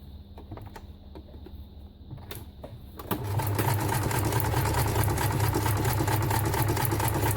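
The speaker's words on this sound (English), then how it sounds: "My poor little sewing machine, honestly, I have like tortured it over the years." A small sewing machine stitches fabric scraps. It starts with lighter mechanical ticking, then runs steadily and loudly with a continuous whirring buzz for several seconds.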